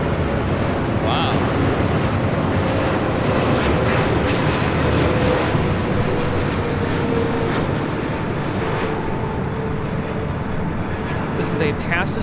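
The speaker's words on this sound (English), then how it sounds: "This is a passenger 777-300ER." A Boeing 777-300ER passenger jet arriving at LAX gives a steady, loud engine roar that fills the whole stretch with broad rumbling noise, and a faint voice sits under it.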